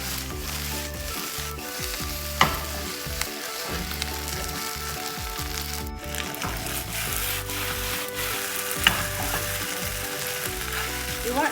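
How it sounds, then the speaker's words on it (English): Flat rice noodles sear and stir-fry over very high heat in a hot pan for pad see ew with shrimp, a loud, continuous close sizzle with scraping stir strokes and a few sharp clacks of the utensil. "You want all the noodles to hit the pan so it sears it."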